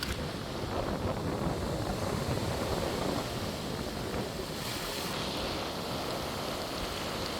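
Steady blustery wind beside the sea in Homer, Alaska roars across the microphone with a broad rushing wash; continuous and fairly loud, no talking.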